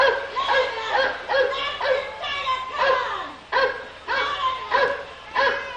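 Animatronic dog barking in the Carousel of Progress show at Magic Kingdom, a series of about eight loud, evenly spaced yaps over a few seconds.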